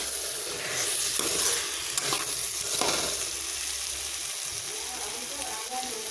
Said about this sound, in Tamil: கொஞ்சம் நேரம் அந்த மசாலாவோடு வதக்கிக்கலாம்.